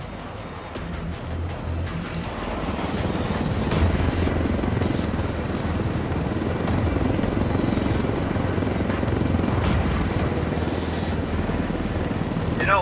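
A helicopter flies in the video game Ghost Recon Wildlands, its rotor and engine giving a continuous loud whirring drone that swells slightly and holds steady throughout.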